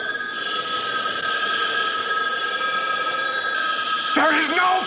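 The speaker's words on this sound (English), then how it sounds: "imagines that all the payphones start ringing" Payphone bells ring steadily over a noisy downtown Los Angeles backdrop, with several overlapping rings creating a constant chiming wash before a brief voice-like sweep at the end.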